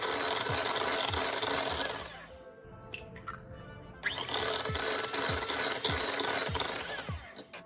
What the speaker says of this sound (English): you just want to whisk it up. Make sure everything's light and fluffy